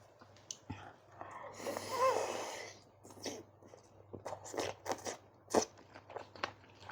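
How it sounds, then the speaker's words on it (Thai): Crisp, crunchy chewing of crispy squid with spicy Thai pounded rice noodles in a few irregular bursts close to the mic, with quiet pauses between bites. "หมึกกับกรุบกุบดีครับ"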